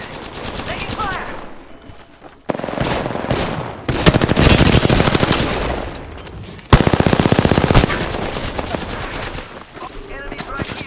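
Bursts of rapid automatic gunfire in Apex Legends, loud and close, rattling in long sustained volleys separated by short pauses, with brief voice lines in between.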